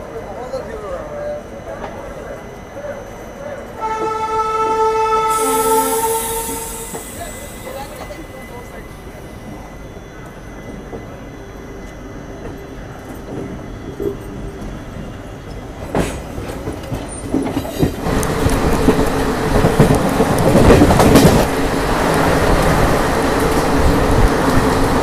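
A long multi-tone horn blast from the Chennai–New Jalpaiguri Express near Asansol, followed by the steady rumble and rattle of the train rolling past, growing louder and rougher toward the end.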